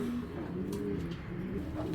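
Low, steady cooing from a big-sized pair of Giribaz pigeons, a continuous murmur close by with no talk over it.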